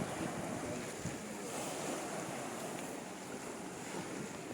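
Small sea waves wash steadily onto the shore beside the Alushta embankment, a continuous close surf roar mixed with light wind buffeting the microphone and no speech.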